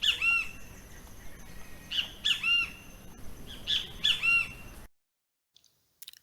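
A great kiskadee (bem-te-vi) sings its repeated calls, three distinct bursts of bright, squawking notes spaced about a second and a half apart, clear and fairly close, followed by near silence.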